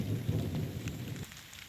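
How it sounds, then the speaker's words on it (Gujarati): Heavy rain pours during a violent lightning storm in the Talaja area, with a loud, dense wash of rain and deep thunder rumble for over a second before it drops off to a quieter patter. "આ વિસ્તારની અંદર અત્યારે એક ખૂબ જ ભયંકર વીજળી થઈ રહેલી છે"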